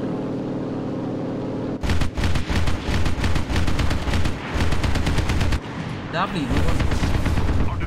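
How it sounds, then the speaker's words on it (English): Airstrike explosions in a video game: after a quiet hum, a heavy barrage of booming blasts and crackling fire erupts and rolls on for several seconds, loud and close, with a brief spoken line near the end. "Oh, my airstrike came in."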